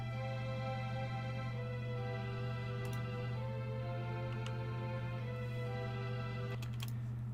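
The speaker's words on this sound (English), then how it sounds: "this string patch from Nexus, from the Cold Beats Nexus expansion" Sustained string patch from the Nexus Cold Beats expansion holding steady chords over a low tone, soft and continuous with faint clicks scattered on top.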